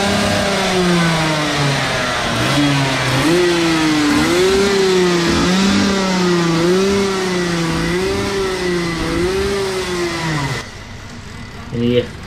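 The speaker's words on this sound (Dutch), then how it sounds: "Motortje wel aan het draaien, hoort er ook bij." A small Rotax Max DD2 kart engine revs up and down repeatedly at the Spa-Francorchamps karting track, whining in a wavering pitch close by, then cuts off near the end.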